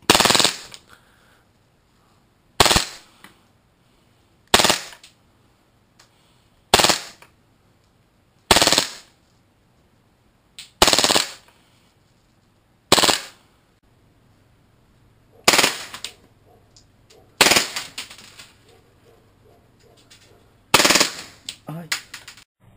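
Tokyo Marui Hi-Capa 4.3 airsoft gas pistol fired through a chronograph, about ten sharp, loud shots spaced a couple of seconds apart, each with a short ringing decay.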